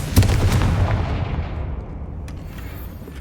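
Blasting spell explosion in Hogwarts Legacy: a single loud boom with a sharp onset near the start, followed by a rumbling low decay that fades slowly over about three seconds, with no talk.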